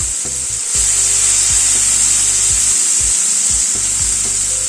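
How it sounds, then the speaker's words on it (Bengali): Chopped onion fries in a pan over a medium gas flame, giving a loud, continuous sizzle broken by repeated close scraping strokes as it is stirred. "পেঁয়াজটাকে দিয়ে গ্যাসের ফ্লেমটাকে মিডিয়ামে রেখে পেঁয়াজটাকে ভেজে নিচ্ছি।"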